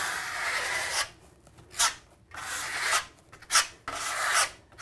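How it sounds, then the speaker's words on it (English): A steel trowel spreads and scrapes Venetian plaster across a wall in repeated long rasping strokes, each about a second long, separated by short pauses and brief sharper scrapes. "using a low angle, light pressure, apply the plaster, and then with a high angle, scrape it off"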